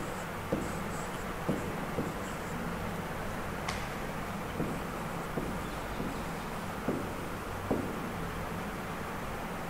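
A name is written on a classroom board, with faint, evenly spaced scratchy strokes and taps over a constant background hiss.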